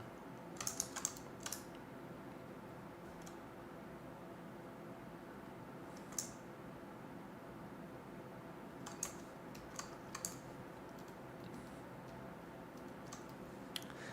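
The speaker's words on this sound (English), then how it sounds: "The keyboard clicks feel like ASMR for modeling." Keys clack in scattered bursts of typing on a computer keyboard, quiet and close, with long pauses between runs.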